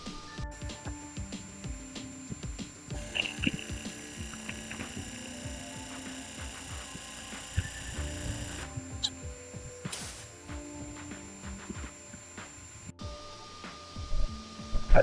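Vevor PCP high-pressure air compressor running under pressure, a steady close mechanical hum and drone with constant rattling clicks and ticks throughout.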